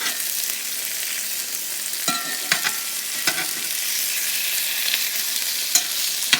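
Turkey burgers fry in a hot pan with a steady, even sizzle, broken by a few brief clicks and taps of a utensil moving them around.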